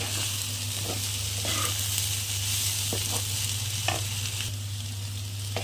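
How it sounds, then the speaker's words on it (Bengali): Brahmi greens fry in ghee with a steady sizzle and hiss under a constant low hum, broken by scattered stirring scrapes and knocks against the pan. "এবার আমি একটু ঘি দিয়ে দিলাম ঘিটা দিয়ে ভেজে খেয়ে দেখো"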